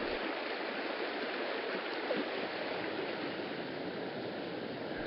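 A fast-moving stretch of river just downstream of a pool gives a steady, dense rush of flowing water that stays close and even throughout, with no voices.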